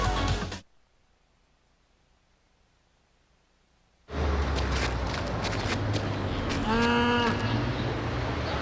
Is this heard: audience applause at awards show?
no